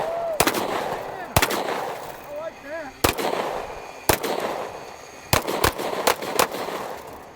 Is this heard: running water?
no